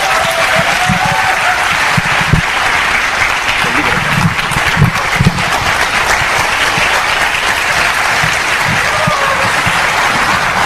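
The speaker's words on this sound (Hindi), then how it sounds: "जोरदार तालियां" Loud, sustained applause from a large crowd welcoming a woman onto the stage at a motivational event, dense continuous clapping throughout with some crowd noise beneath.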